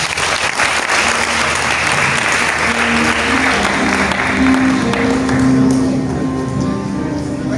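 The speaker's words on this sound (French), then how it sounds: "On acclame le Seigneur." Sustained applause from a church charismatic group gathered at a ceremony, steady and full throughout, swelling slightly toward the end, with a few voices faintly audible beneath.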